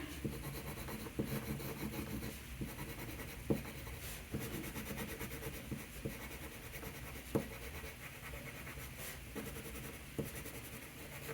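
Colored pencils scratch steadily across paper in short, quiet strokes and small taps, close up and alone, as an optical illusion drawing is filled in with precise shading.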